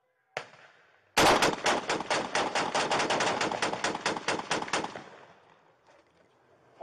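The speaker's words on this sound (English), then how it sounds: "Shots fired. Shots fired." Rapid volley of gunshots during a deputy-involved shooting, captured on body camera: one sharp shot, then a dense burst of a dozen or more loud, closely spaced reports that taper off into silence.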